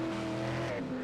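A stock car in the SIM 3D Euro Stock Car Challenge video game at Circuit Zolder slides with a sustained tire squeal over a steady engine drone, loud and continuous.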